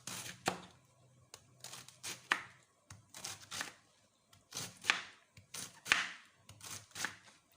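Irregular knife chops on a cutting board, quick clusters of sharp cuts with short pauses between, close and fairly quiet.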